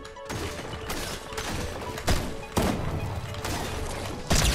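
Rapid bursts of gunfire in a Fortnite ranked match, dense and loud, with heavy impacts near the start, around the two-second mark and at the end, fired almost continuously through the clip.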